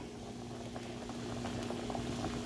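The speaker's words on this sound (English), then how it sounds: "take it and put it in the boiling pot" A pot of water at a steady rolling boil with chopped hot dogs in it, giving a continuous bubbling, lightly pattering simmer at close range with no voices.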